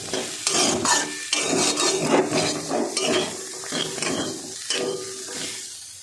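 Boiled chickpeas being stirred into a cauliflower and potato filling in a pan, with a spoon scraping and clinking in uneven strokes over a soft sizzle, fairly close and without talk.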